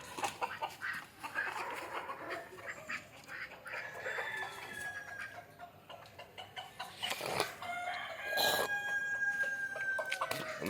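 Country chickens and a rooster at a coop. They cluck and call close by, with a rooster crowing partway through and sharp squawks near the end, over steady farmyard background with no talk.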